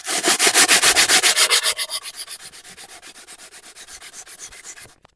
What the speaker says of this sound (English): Sandpaper round where the key's been. Clean off.